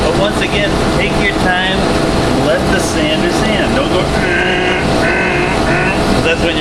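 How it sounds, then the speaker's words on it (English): An electric sander grinds along the edge of a wooden board with a steady, loud motor drone and a rough, scratchy texture, and someone talks over it throughout. "take your time and let the sander sand"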